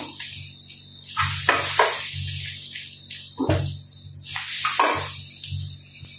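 Carrots tossed into a pan of salted frying vegetables crackle and sizzle, with steady hissing broken by bursts of louder spattering and stirring scrapes close by.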